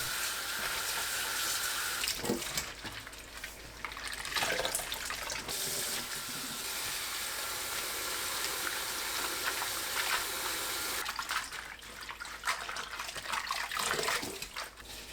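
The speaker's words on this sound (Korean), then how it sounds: "물에 3-4번 헹굽니다." Pumpkin leaves are rinsed in water, heard as running tap water and sloshing splashes that rise and fall in bursts as the leaves are swished and handled nearby.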